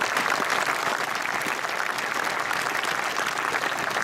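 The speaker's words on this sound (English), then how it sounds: "So let's have a round of applause for Bill." Applause for Bill, a Normandy paratrooper veteran, at a Memorial Day ceremony at the Mt. Soledad National Veterans Memorial: a dense, even round of clapping from a crowd, sustained and fairly loud throughout.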